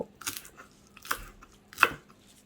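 Three separate knife chops on a small cutting board, slicing ingredients into half-inch pieces, each a crisp close tap with quiet pauses in between.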